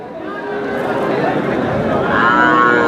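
Cattle lowing at a busy cattle market, a long loud drawn-out moo close by, rising toward the end, with crowd chatter and talk around it.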